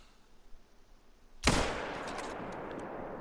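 A single sharp rifle shot at a mule deer during a hunt, loud and close, cracking out of a quiet field and trailing off into a lingering rumble and echo.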